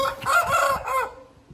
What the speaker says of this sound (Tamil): இங்கே ஒரு பிஞ்சு போன கோழி இருக்கு